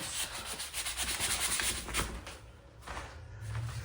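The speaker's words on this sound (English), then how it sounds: "I am actually done sanding now" Hand sanding of a skim-coated wall in an 85-year-old house gives a continuous rough scraping and rubbing with uneven strokes, close and fairly loud, easing off briefly near the end.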